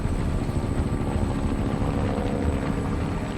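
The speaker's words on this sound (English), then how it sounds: "Alright, well we got helicopters" Helicopters in the video game Metal Gear Solid V: Ground Zeroes, a continuous loud rotor roar with a dense low throb and steady engine whine, filling the whole stretch with no talk.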